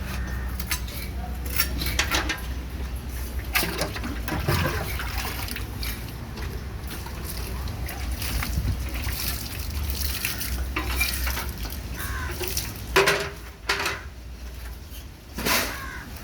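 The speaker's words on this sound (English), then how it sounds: "here's somebody mixing the special mortar to seal the walls" Lime mortar mixed with red brick and tile powder during fort wall restoration in Galle, Sri Lanka, makes wet scraping, stirring and slapping sounds in irregular bursts, with sharper knocks of tools near the end and faint voices in the background.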